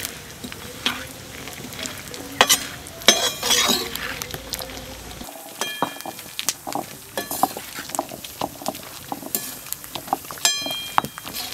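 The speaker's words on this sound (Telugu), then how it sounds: "పల్లీలు ఈ రకంగా దోరగా వేయించుకోవాలి" Peanuts roasting in a pan while a spoon stirs them, with scraping and clinking metal strokes over a dry, crackling sizzle, the stirring coming in irregular bursts throughout.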